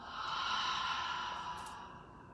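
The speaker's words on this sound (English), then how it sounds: "Take a final deep breath in. Exhale, let it all go." One long, deep breath out, a soft airy exhale heard up close that fades gradually over a couple of seconds, alone.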